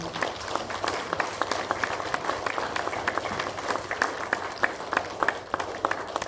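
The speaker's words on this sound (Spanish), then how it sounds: "fuerte aplauso." A church congregation applauding during a worship service, dense continuous clapping from many people at close range, steady and energetic with distinct individual claps popping out over the crowd.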